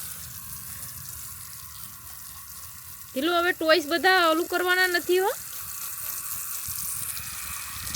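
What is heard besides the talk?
water poured to water fenugreek plants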